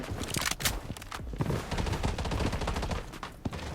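Rapid gunfire bursts crackle continuously in the shooter game Blood Strike, dense overlapping automatic shots and sharp cracks at moderate volume with no talking.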